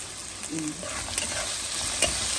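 Turmeric, chilli and cumin stir-fried in hot oil in a pan, steady sizzling with scraping stirs of a spatula, close and continuous.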